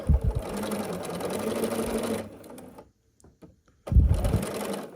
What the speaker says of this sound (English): we can just start sewing